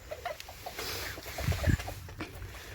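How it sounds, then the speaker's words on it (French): A male Muscovy duck at a French poultry farm gives a few short, soft hissing calls up close, with faint rustling around them and no talk. "Magnifique comme petit coq de Barbarie."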